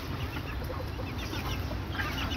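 Chickens cluck softly and continuously nearby while eating, a busy low chatter of several hens and chicks over a steady background hum.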